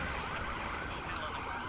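Police sirens wail continuously during a chase in The Crew racing game, loud and steady over engine and road noise with no pauses.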